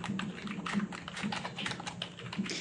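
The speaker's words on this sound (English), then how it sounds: "Simply type in the box." Light, quick typing on a computer keyboard, with irregular clusters of soft key taps at close range. No voices.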